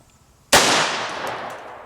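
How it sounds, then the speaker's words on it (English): One loud, sharp shot from a 1911 pistol in .45 ACP aimed at a PVC target, cracking after a brief hush and ringing out into a long fading echo outdoors. "Shooting for dead center on the PVC."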